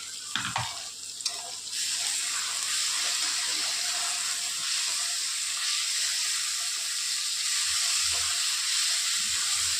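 Ginger, garlic and coriander paste hits a hot pan for a chicken curry, bursting into a loud steady sizzle and hiss that carries on alone, with a few brief clinks of stirring at the start.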